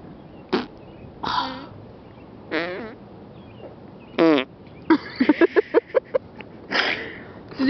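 A person imitates fart sounds with the mouth. Several separate buzzing, quack-like blurts are followed by a quick run of short sputtering bursts, then one longer blurt, with quiet pauses between them.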